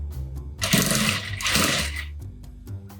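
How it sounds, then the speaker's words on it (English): A sewing machine stitches along the sides of a fabric turban headband, running in two loud bursts of motor whir with short pauses between, close by with no talking. "Then you put it to the sewing machine and then you stitch."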